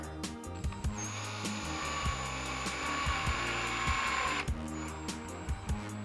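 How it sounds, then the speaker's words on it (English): A power drill drives a screw while building a spray and dry rack for painting doors and cabinets: a close, high-pitched whine lasting several seconds, with clicks and knocks before and after. "So I recommend grabbing your drill."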